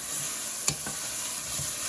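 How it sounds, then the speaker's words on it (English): Garlic is stirred into onions and peppers frying for chili, a steady close sizzle with a single quick scrape of the spoon partway through. "we're going to add in our garlic. And we're just going to stir that in"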